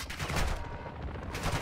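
Rapid, dense gunfire in the video game DMZ, continuous bursts filling the short clip at moderate loudness, steady and unbroken, with no talk over it.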